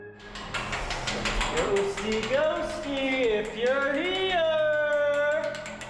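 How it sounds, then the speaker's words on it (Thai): A long, high-pitched creaking squeal with wavering tones as a prison cell door grinds shut on its hinges, loud and close, over faint background noise. "that was a cell door squeaking shut"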